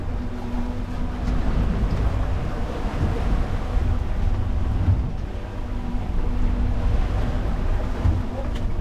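Steady wind buffeting a small inshore fishing boat on open water, a continuous loud rumble with wave wash and hull noise throughout, no speech.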